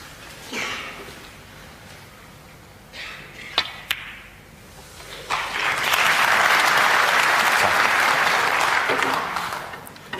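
Applause from a snooker crowd at the Wembley Conference Centre, starting with scattered claps and a few sharp knocks, then swelling into sustained, loud clapping for several seconds before tapering off.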